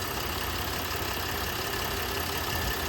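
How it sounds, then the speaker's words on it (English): A car engine idles steadily as a low, constant rumble and hiss at moderate level, checked during work on its PCV and EGR emission systems, with no voices over it. "you can hear engine performance is a little bit different"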